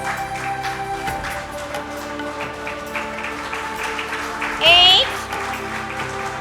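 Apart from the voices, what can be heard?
audience applause during yoga demonstration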